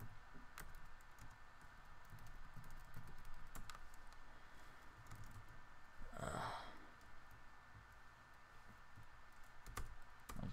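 Quiet, rapid clicking of computer keyboard keys, with irregular bursts of keystrokes and a brief sigh or breath partway through.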